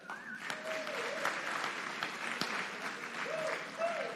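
Audience clapping at a political rally at Norfolk State, a sustained crowd applause with a few sharper claps standing out and faint voices and cheers mixed underneath.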